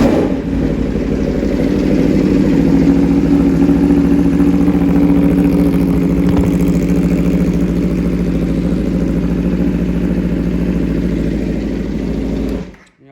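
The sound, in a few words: Aprilia RSV4 1100 Factory idling with Graves slip-on exhaust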